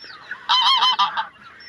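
Loud nasal honking calls in a short burst of several notes from poultry in a backyard coop, close and clear with no talk.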